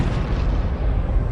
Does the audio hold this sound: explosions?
yes